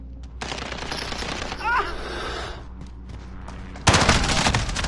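Gunfire from a gun in Call of Duty, a dense stream of rapid shots running through most of the stretch, growing louder and heavier near the end.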